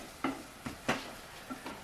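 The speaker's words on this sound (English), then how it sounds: "I'll put in my teaspoon of salt on top of that onion and give it a stir." Onions seasoned with salt being stirred in a frying pan, with a few soft scraping stirs standing out over a faint, steady sizzle.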